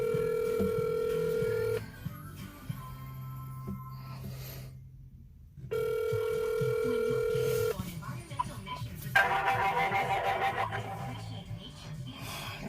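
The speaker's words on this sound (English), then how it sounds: "So let's start calling Hiccup" An outgoing phone call rings back in two long steady tones with a gap between them, then the line clicks open onto background noise and shuffling.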